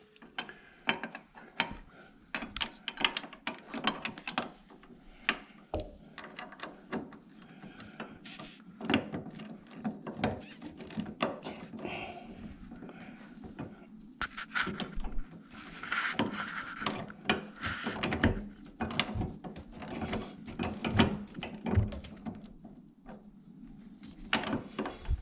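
On a C6 Corvette, the bolt of a sway bar link is tightened with a ratchet, giving irregular clicking bursts and metallic rubbing. It is close and fairly faint, with scattered knocks throughout.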